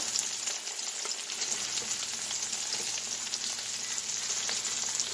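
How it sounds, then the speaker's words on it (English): Ginger sizzles and fries in a hot wok for sweet and sour chicken, a steady bright crackling hiss with light stirring, close and continuous with no talk. "the next thing I'm going to add to the wok is the ginger"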